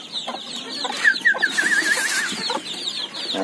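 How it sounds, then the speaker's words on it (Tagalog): Native Filipino chickens, including a rooster, cluck and squawk close by on a rural farm, a busy overlapping chatter of several birds with a higher warbling call in the middle. "Ang ating mga lahi ngayon ng manok."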